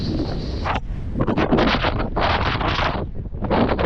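Strong wind buffets the microphone on the Pamban Bridge over the sea, a loud roaring rush in uneven gusts that drop away briefly and surge back, with no voices over it.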